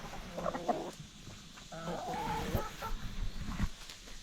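Chickens in a backyard garden flock, including broody hens, cluck in short, repeated, throaty bursts at close range, moderately loud and continuous over a few seconds, with no talk.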